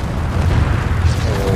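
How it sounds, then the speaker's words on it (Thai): A spaceship crashes after being attacked in the video game Titanfall 2, heard as a dense, loud, rumbling boom with a roaring low end that fills the whole moment. "อุ้ยยานของเราตกฮะ"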